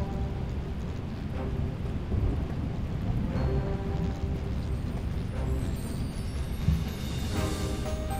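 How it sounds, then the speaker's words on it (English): Steady rain and rumbling thunder from a thunderstorm in the video game Webbed, a continuous dense wash of rainfall with low rolling thunder swelling throughout, no voices. "Soon we'll be above the clouds and we won't have to worry about all this rain"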